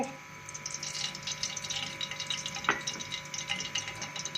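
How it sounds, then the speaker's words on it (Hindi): Oil poured from a cup into a heated kadhai on a lit stove gives a steady close wash of hissing, bubbling liquid, with one brief sharper clink partway through and no talking. "अब 1 प्याली ऑयल इसमें डालेंगे।"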